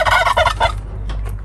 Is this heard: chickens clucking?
yes